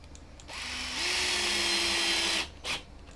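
A power driver running button screws into the frame of a workshop HEPA air filter gives one close, steady whirring burst of about two seconds that rises in pitch, then a short follow-up blip.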